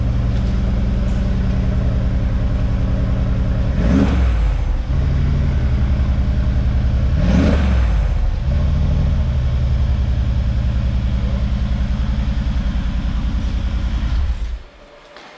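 Mercedes C63 engine running loudly and steadily up close, with two brief surges of revs around four and seven seconds, then cutting off abruptly near the end.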